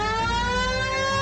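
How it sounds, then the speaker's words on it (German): Police car siren in the L.A. Noire VR video game, a loud steady wailing tone held throughout with a faint engine rumble beneath. "Jetzt Sirene."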